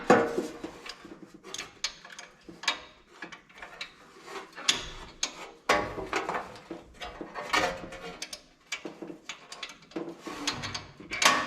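A ratchet clicks in short, uneven bursts, working a spark plug socket loose down inside a vintage Simplicity Cavalier 3110 riding mower, close-up, with clanks and scrapes of metal between strokes.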